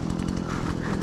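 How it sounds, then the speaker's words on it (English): A chainsaw running out on the ice during brook trout ice fishing, a steady buzzing engine drone with a rapid pulsing flutter, moderately loud and continuous, heard alone without talk. "The fish likes the chainsaw."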